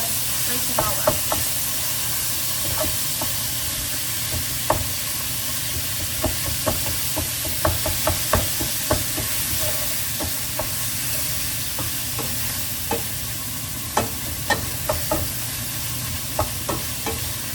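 Ground beef sizzles steadily in a hot pan while a utensil breaks it apart, with irregular sharp scraping clicks and taps standing out over a constant frying hiss.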